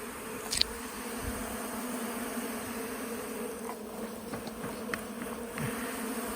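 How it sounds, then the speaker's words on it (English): Agitated bees from a decades-old hive being removed buzz steadily in a continuous hum, with a few louder passes close by and faint clicks and taps underneath. "There's a few bees flying around."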